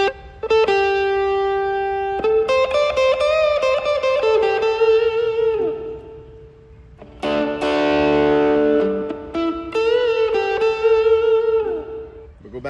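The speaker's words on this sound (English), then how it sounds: "And a heavier reverb." Sustained instrument notes swell and hang in a washy reverberant tail, with a denser, smeared chord passage in the middle before clearer tones return.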